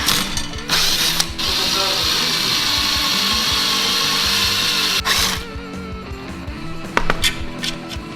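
A power drill boring holes through hard steel and aluminum armor plates, a loud continuous whirring grind for several seconds with brief pauses and clicks before and after, close up, with no talking.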